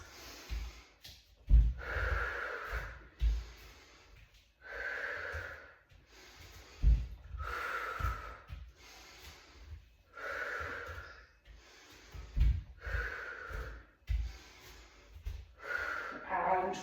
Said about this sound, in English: I'm breathing out into my abs